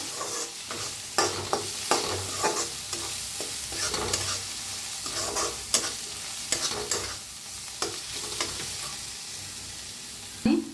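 Red chilli powder masala dry-roasting in a pan over a very low gas flame, with a steady soft sizzle broken by repeated scraping strokes of a spatula against the pan, close and moderately loud.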